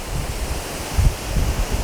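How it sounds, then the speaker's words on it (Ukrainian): Gusty wind before rain rushes across the microphone on the Uzh River bank, a low roaring buffet that swells briefly near the middle, with no voices. "Знявся вітер."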